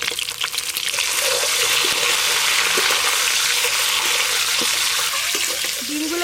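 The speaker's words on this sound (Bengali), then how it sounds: "ডিমগুলো বেশ ভালো করে ভেজে নেব।" Eggs spit and sizzle in hot mustard oil in a pan over a village clay stove, a loud, dense, continuous frying hiss heard close up with no break.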